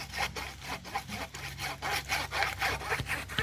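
A hand saw cuts through wood in steady back-and-forth strokes, each rasping pass close and fairly loud, about a dozen strokes in an even rhythm with no talking.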